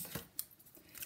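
Scissors snipping paper while trimming a Stampin' Up! greeting card, a couple of quick close cuts within a second, faint and alone.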